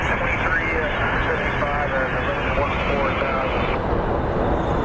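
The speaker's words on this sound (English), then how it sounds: "So our next plane looks like it's going to be an Embraer 175" Embraer 175 airliner at Phoenix Sky Harbor airport, a steady broadband jet engine roar that stays loud and constant throughout, with faint radio chatter and voices mixed underneath.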